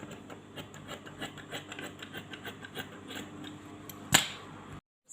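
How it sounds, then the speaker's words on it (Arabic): Scissors cut through fabric for an abaya in a run of quick, rhythmic rasping snips, heard close and fairly quiet. A single sharp click comes near the end, just before the sound stops abruptly. "نقطع هذا الجزء هذا ونرجع معكم"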